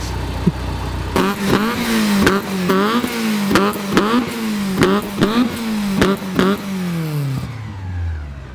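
A small Citroen AX engine revs up and down repeatedly, punctuated by sharp bangs at regular intervals, loud and close, then winding down at the end.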